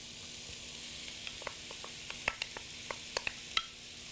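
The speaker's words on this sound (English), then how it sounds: "So now I want to add the rice." Pre-cooked basmati rice goes into a sizzling pan for chili beef and shrimp fried rice, with a faint, even sizzle broken by scattered light clicks and taps.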